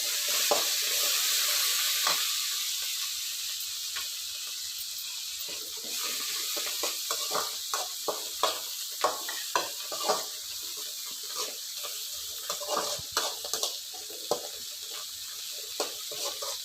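Ginger paste sizzles steadily in a hot pan while a spoon scrapes and stirs it in repeated close, sharp strokes, the frying hiss continuous throughout and the stirring taps growing busier toward the end.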